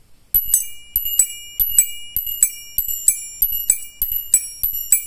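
An added in-cabin turn signal flasher in an old car gives a steady, even run of about a dozen bright, bell-like chimes, each a sharp metallic ting with a short ringing tail, close and clear against silence.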